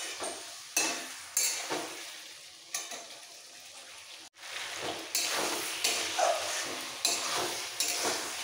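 Potol and prawn curry being stirred in a pan with curd, repeated spatula scrapes and clinks against the pan at a loose rhythm over a soft simmering sizzle, close and moderately quiet.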